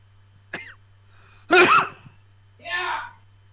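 A character in the Ace Attorney Investigations video game lets out a short sneeze sequence: a quick sharp intake, a loud explosive burst, then a softer trailing exhale, each separated by near silence over a low steady hum.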